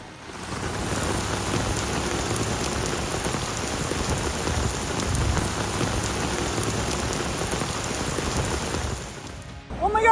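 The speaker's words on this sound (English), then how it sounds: "Heavy rain turns streets in Norman into rushing rivers" Heavy rain pours steadily onto flooded streets, a dense continuous hiss of water hitting surfaces from start to finish with no voices.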